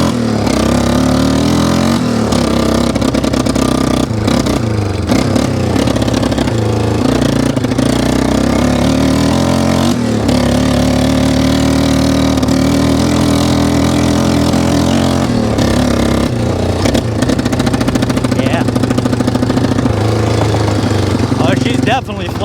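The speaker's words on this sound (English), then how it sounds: "Definitely flooding out, getting way too much gas. Sits there and idles good." A Yamaha Wolverine ATV engine running rich and flooding, sputtering and stumbling before settling into a steady idle, loud and close, with someone talking over it.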